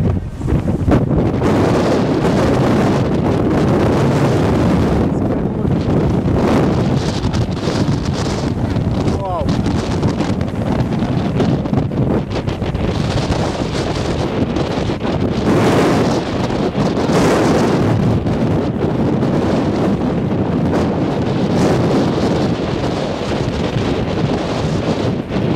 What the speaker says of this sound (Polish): Potężny wiatr.